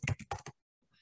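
A handful of quick computer keyboard keystrokes while typing in Canva, close and soft, followed by near silence.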